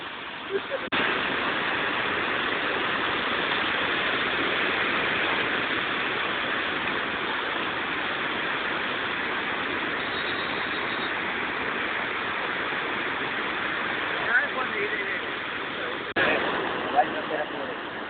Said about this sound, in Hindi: पानी का बौछार अभी हम देखेंगे